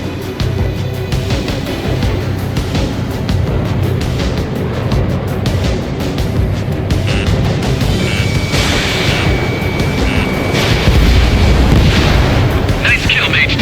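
In Ace Combat 7, a destroyed ground target explodes into a dense, continuous roar of booming blasts and rumble, with game radio chatter and a tonal beep layered on top.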